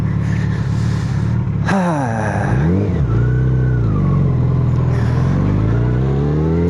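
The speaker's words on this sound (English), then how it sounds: "you guys get to see me turn around this big heavy street bike on this gravel and dirt" A big, heavy Yamaha FJR street motorcycle turns around on gravel and dirt, its engine idling loud and close, then revving up and settling with wavering pitch as it maneuvers.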